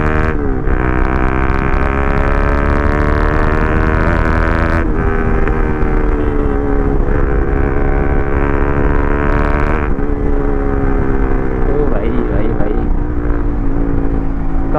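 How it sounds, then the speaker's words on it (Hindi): A Kawasaki ZX-10R sportbike rides fast, its engine a loud, sustained high-pitched howl that rises and drops through gear changes, with wind roar around it. "काफ़ी दिन बाद में इधर इतनी फास्ट बाइक चला रहा हूँ"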